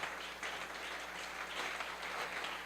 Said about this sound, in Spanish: Dele ese aplauso al nombre de Jesús